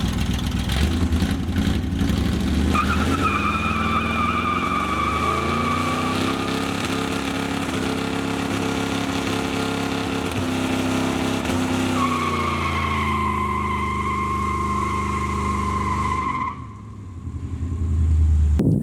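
A Plymouth 'Cuda holds a loud, sustained engine roar at high revs during a tire burnout, with a steady rising whine layered over the engine before it cuts off abruptly near the end.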